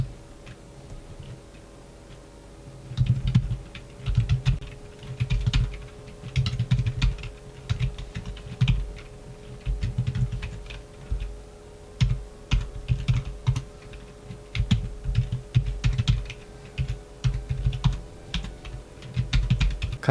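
Quiet typing on a budget wireless full-size keyboard with rubber dome keys and deep 2.5 mm travel, soft muffled keystrokes in irregular bursts and short pauses, close and fairly low in volume, with a faint steady hum behind.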